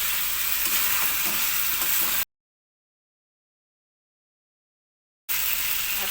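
Chicken and potato curry frying in a pan, a steady close sizzle with faint stirring scrapes, cut by a few seconds of complete silence before the sizzling resumes.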